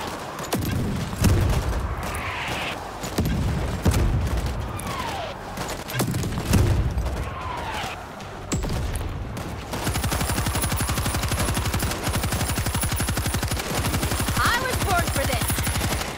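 Gunfire rings out in the zombie shooter World War Z on the Marseille harbor road, first in scattered bursts among game sounds, then as a loud, continuous machine-gun stream through the second half, with voices in the mix.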